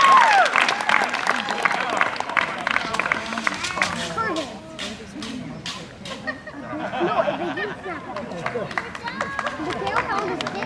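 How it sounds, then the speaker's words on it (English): A concert audience at a Latin American ensemble performance claps and cheers loudly, the applause fading and then swelling again, with voices talking over it. "round of applause"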